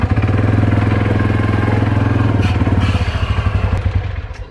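A Polaris RZR Pro XP engine stuck in limp mode runs loud and close with a rough, pulsing drone that wavers and dips near the end, heard alone with no talk.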